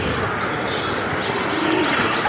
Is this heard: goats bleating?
no